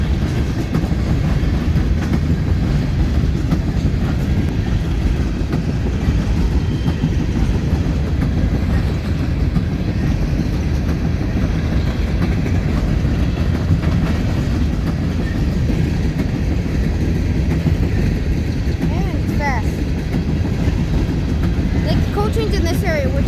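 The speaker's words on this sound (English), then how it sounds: "Trains in this area, which goes really fast." A fast BNSF train thunders past close by, a loud continuous rumble of rolling wagons with rhythmic clickety-clack of wheels over rail joints and occasional metallic squeals.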